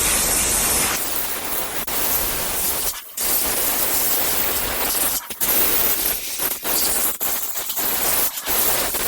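Compressed air blasting out the cover of a 2018 Yard Machines lawn mower, a loud continuous hiss in several long bursts broken by brief pauses.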